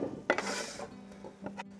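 Beets tipped into a cooking pot with sautéed translucent onions, heard as a brief clatter of pieces dropping in, followed by a couple of light knocks and scrapes against the pot, close and short.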